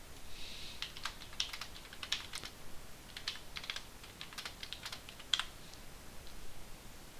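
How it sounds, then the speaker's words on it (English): Quiet typing on a computer keyboard, a scattered run of light key clicks in irregular bursts with short pauses, close and faint, no voices. "So we'll type that in there, and there we go, it updated."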